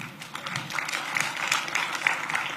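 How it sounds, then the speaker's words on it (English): An audience at the CAADP summit gives a round of applause, a dense, crackling wash of many hands clapping that stays fairly steady and moderately loud, with no one speaking over it. "A warm round of applause once again."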